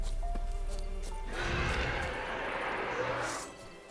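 Roach, a horse in The Witcher 3: Wild Hunt, gives a loud, drawn-out neigh that swells midway and fades at the end, with faint hoof clops and game ambience underneath.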